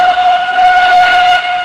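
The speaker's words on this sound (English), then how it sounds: "Whistled Edward." A steam engine's whistle sounds as one loud, sustained, steady tone that lasts through the whole short moment, with no other sounds.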